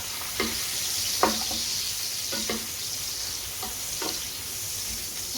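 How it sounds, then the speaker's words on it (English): Onions and peppers sautéing in a single pan, giving a soft, steady sizzle with a few quiet scrapes and taps of a spoon stirring them. "I'm going to stir up my onions."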